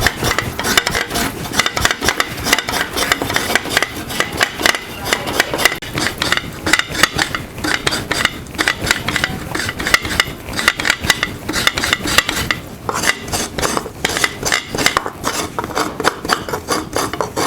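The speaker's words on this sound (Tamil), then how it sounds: "எடுத்து வச்சுருக்க தேங்காயை திருவி எடுத்துக்கலாம்" Coconut being grated by hand for rava appam, a continuous fast rasping scrape that repeats in dense rhythmic strokes, close and loud with no talking.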